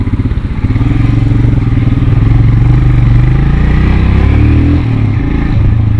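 A Royal Enfield Himalayan motorcycle thumps along close and loud, its single-cylinder engine pulsing steadily as the rider slows into a U-turn, then eases off near the end.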